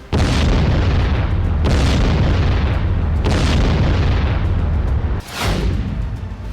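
Explosions from an Iranian missile strike on Israel, four loud deep booms at intervals of about one and a half seconds, each followed by a rumbling decay.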